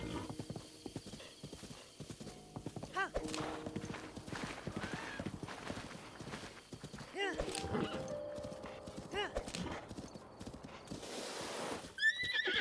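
A horse in the game Zelda: Breath of the Wild whinnies and snorts while its hooves clip-clop in a steady, close rhythm, with several louder neighs standing out over the game's ambience.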